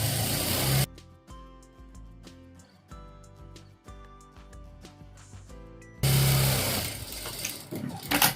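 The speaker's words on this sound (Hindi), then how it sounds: "और अब ये अंदर वाली भी सिलाई मार लेंगे, अंदर वाला 1 इंच से" An electric sewing machine stitches the inner seam of ladies' palazzo pants with a one-inch margin, running in a steady rapid chatter for about five seconds. Louder broadband noise comes before and after the stitching.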